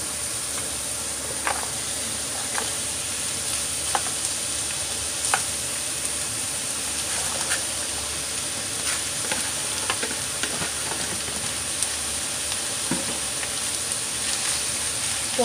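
Cucumber slices sautéing with onion in a pan, a steady loud sizzle and hiss with occasional scraping stirs, continuous and close.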